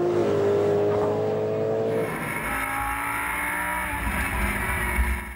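Race cars including an Audi R8 LMS at the Nürburgring 24 hour race, a loud high engine howl that drops as a gear changes, then a steady roaring pass close by, with no talk.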